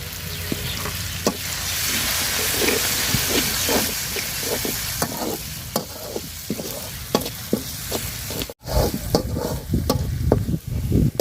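Garlic paste frying in oil in a pot during a rural cooking session, a loud continuous hiss and crackle with repeated clinks and scrapes of stirring, a brief break near the end.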